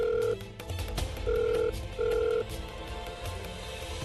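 A telephone ring tone sounds in short repeated bursts over a faint background hum, with no voices.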